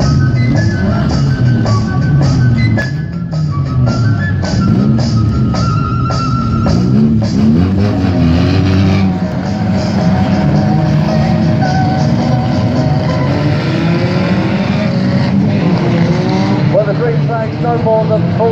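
Race cars on a lap of honour at Aldershot Raceway, engines revving and rising and falling as they pass, with tyre noise, loud and sustained, a commentator speaking over them.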